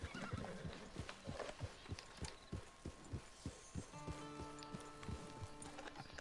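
Steady clip-clop of hooves plods along in an even rhythm while a horse whinnies and snorts in the video game Red Dead Redemption 2, backed by soft ambient music.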